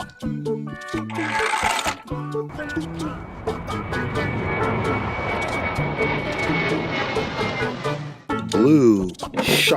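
An airplane engine drones steadily through the middle, bracketed by toy-like voices and tones at the start and end.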